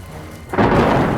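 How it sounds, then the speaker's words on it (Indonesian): Thunder breaks with a sudden loud roll over heavy rain in a downpour, the rumble rising halfway through and sustaining alongside a dense hiss of falling rain. "geledeknya, hujannya deras banget"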